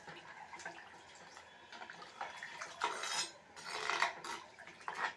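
Water pours into a pot of chicken curry in a home kitchen, with soft splashing mixed with clinks of a metal pot and utensils. The sounds are faint and close.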